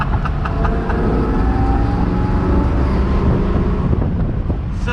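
A Chevrolet C8 Corvette engine pulls on throttle with rising tones that reset at gear shifts, heard through heavy wind and road noise in a loud, continuous stretch.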